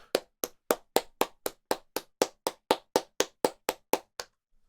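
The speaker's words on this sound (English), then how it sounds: "let's clap it up." A pair of hands claps sixteen times in a steady, even rhythm, sharp and close, then stops into silence.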